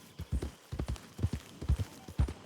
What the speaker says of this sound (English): A scrawny nag will come to you if none of your owned horses are available.